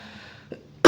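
A single short cough bursts out at the very end, loud and close, after a near-silent pause in a maths lesson.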